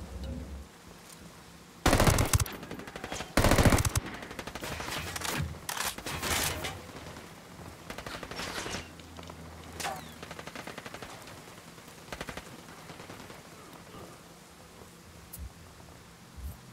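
Machine gun fire from the tactical shooter Ghost Recon Wildlands rattles in loud automatic bursts over a noisy backdrop, followed by scattered single shots and fainter distant firing.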